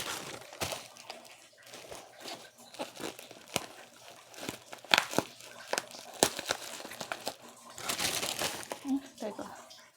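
Plastic parcel packaging from a courier delivery crinkles and tears in repeated bursts while being unwrapped up close, with brief bits of talking mixed in.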